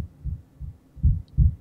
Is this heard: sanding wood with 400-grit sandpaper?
no